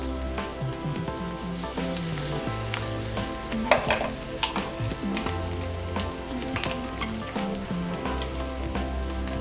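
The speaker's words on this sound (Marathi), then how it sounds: "वाटलेला मसाला टाकून घ्यायचा." Ground masala sizzles and fries steadily in an iron pan for a dried bombil curry, a dense crackling hiss close by with occasional stirring scrapes and no talk.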